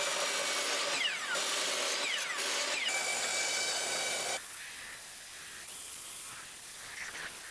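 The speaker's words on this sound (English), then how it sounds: "Next, let's do the bandsaw work." A bandsaw cuts wood for porch swing armrests, a steady whining motor hum with cutting noise that stops partway through and leaves a quieter mechanical hum running, with no talking.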